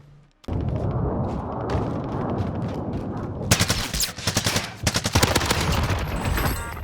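Sykov pistols fired in Warzone, with dense rapid automatic bursts of gunfire that continue almost unbroken and grow sharper and more crackling toward the end, loud and close, with no talk.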